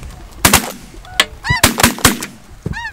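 Several sharp shotgun blasts crack out during a waterfowl hunt, close and loud, mixed with honking geese calling between and after the shots.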